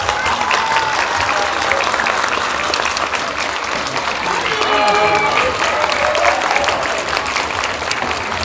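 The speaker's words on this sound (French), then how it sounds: "Je vous propose qu'on les applaudisse." Sustained applause from a fair crowd at the Saint-Lô fair, filling the air as two guests are welcomed on stage, with faint voices and a few whistles rising through the clapping.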